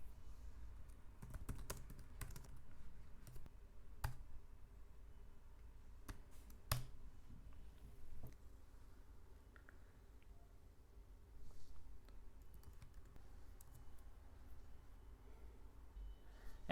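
A computer keyboard is typed on to enter a terminal command, producing irregular bursts of crisp close key clicks separated by pauses, quiet and with no speech.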